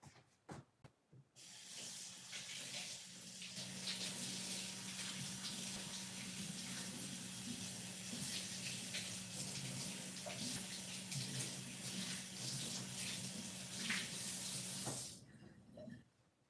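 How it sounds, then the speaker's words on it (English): A sink tap runs steadily for about thirteen seconds as water rinses peanut butter and hemp oil off a cutting board. The close, even hiss and splash starts and stops abruptly, and no one speaks. "now I need to rinse off the cutting board because that's peanut butter and hemp oil on it"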